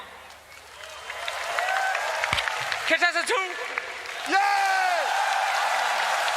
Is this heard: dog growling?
no